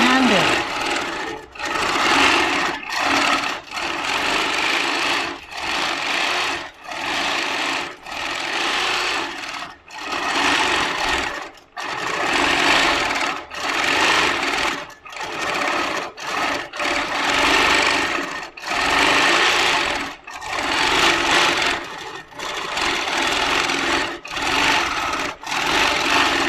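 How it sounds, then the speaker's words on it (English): A Handi Quilter Moxie moveable longarm quilting machine stitches in a showroom, its rapid mechanical whirr running in repeated bursts separated by brief pauses, close and steady. "The Moxie is just rock up, do a bit of stitching."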